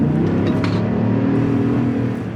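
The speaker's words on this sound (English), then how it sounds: "let's step on it and see how it accelerates" A 2021 Chevrolet Tahoe High Country pulls hard from 30 mph, its engine giving a loud, steady, close drone heard from inside the cabin throughout.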